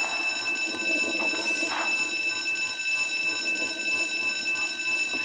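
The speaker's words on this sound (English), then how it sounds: "The alarm is so loud." An alarm rings in the video game Stickman Survival, a loud continuous electronic tone that holds steady from start to finish with no break, alone without talk.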